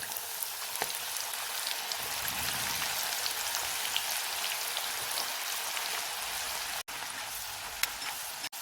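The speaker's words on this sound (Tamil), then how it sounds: "இப்போ இதில் பருப்பை சேர்த்து கொஞ்சமாக வறுத்துக்கலாம்." Masoor dal lentils frying in hot oil make a dense, steady hiss and crackle, loud and close, lasting the whole clip with a couple of brief breaks near the end and no talking.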